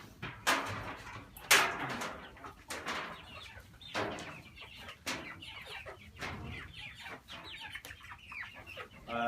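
Full-grown chickens in a coop clucking and squawking in frequent short bursts, fairly close but quiet, with a few sharper calls standing out among the overlapping clucks.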